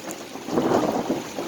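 Thunder rolls low and steady through a heavy rainstorm over a vegetable garden planted with beets and strawberries, a broad rumble swelling in the middle and then settling under a constant wash of rain.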